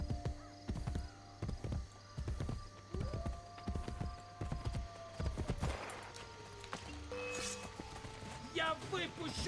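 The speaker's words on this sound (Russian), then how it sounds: "Слышите, как лошадь дышит?" Horse hooves clip-clopping in a steady rhythm in the video game Assassin's Creed Brotherhood, with a whinny, under someone talking in Russian and game sounds.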